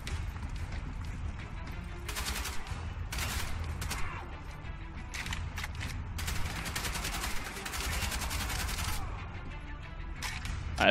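Dense bursts of rapid gunfire and explosive blasts from the World War II shooter Wolfenstein: The Old Blood during a cable-car fight, loud and almost nonstop, with short lulls between volleys.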